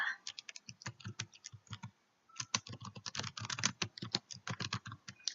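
Rapid typing on a computer keyboard during a Photoshop exam exercise: dense, uneven bursts of close key clicks, a brief pause in the middle, then more steady typing with no voices.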